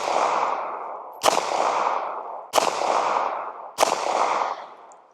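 Ruger LCP Max pistol fired three times at a steady pace, each sharp, loud crack trailing into a long ringing echo, with no talking.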